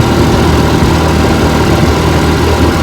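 A 1957 Johnson FDL-11 18 hp outboard motor running on a bayou test run, with a loud, close, steady droning rumble that holds unbroken throughout.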